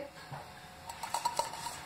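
A non-stick kadai is handled for greasing with refined oil, giving a few light metallic clinks and soft scrapes close by, in a quiet kitchen with no talk.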